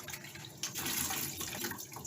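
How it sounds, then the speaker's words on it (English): Water splashes steadily into a bucket as a cleaning rag is wrung out in a bathroom, a close, continuous trickling that swells midway without any talk. "Squeeze my water out."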